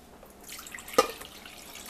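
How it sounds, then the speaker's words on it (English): Water trickles and drips into a cooking pot for sweet peas with egg noodles, a faint splashy pour with one sharp plip of a drop near the middle, in a quiet kitchen. "I'll add some water"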